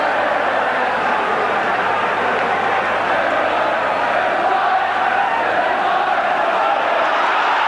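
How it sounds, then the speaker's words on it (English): A large football stadium crowd at Manchester United versus Ipswich Town roars after a goal, a dense, loud and sustained wash of cheering that holds steady throughout. "The crowd were getting restless up to that point also, but they're happy enough now"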